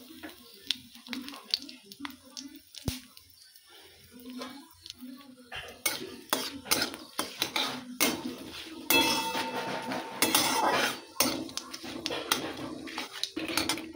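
Dry red chillies, panch phoron and bay leaves stirred in a little oil in a kadai give quiet scraping at first, then busier metallic clinks and scrapes of a spoon against the pan, with faint sizzling beneath.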